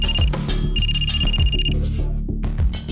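A telephone rings in a police office with an electronic trilling tone in repeated bursts, partly buried under loud dramatic background music with heavy thumping beats.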